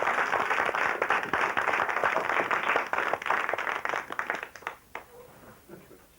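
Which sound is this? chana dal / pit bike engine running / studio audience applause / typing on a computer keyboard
studio audience applause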